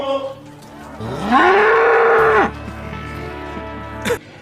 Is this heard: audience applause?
no